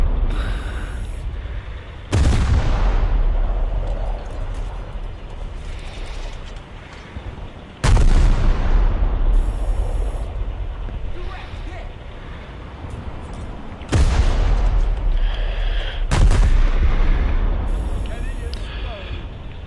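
Ship's heavy naval guns firing in the War Thunder video game, four loud booming blasts spaced several seconds apart, each followed by a long rumbling decay, with mechanical clanks between shots.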